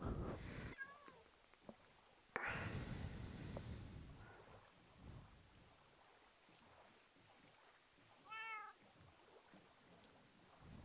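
A cat in Minecraft meows twice, short rising-falling cries a few seconds apart, over soft wind and ocean ambience with a sudden whoosh of water or wind in between.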